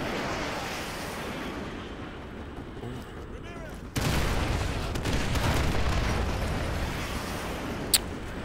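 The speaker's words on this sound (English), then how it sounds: "Fire mission received. Ooh. Artillery inbound." An artillery strike lands in the Modern Warfare 2 Remastered campaign: a low, rumbling barrage booms in at once and rolls on, dense and heavy, with a sharp crack near the end.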